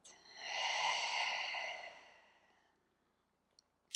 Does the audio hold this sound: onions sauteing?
no